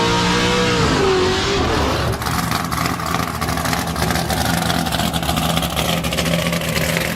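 A car with a high idle around 1800 RPM and 4.5-inch tailpipes on each side rumbles steadily and close, following a brief rev that settles into a constant drone.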